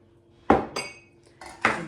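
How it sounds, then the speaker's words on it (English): Two room-temperature eggs are whisked in a bowl: a handful of quick, bright clinks and scrapes of a utensil against the bowl, close and separated by short pauses. "in this bowl, I wanna whisk my eggs"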